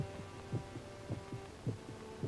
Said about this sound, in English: almost in rhythm with the beating of his own heart